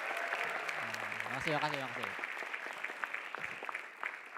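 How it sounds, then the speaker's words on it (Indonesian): An audience at a televised stand-up comedy show applauds the comedian, a soft, continuous wash of clapping, while someone briefly speaks over it near the start. "Boleh tepuk tangan buat gue?"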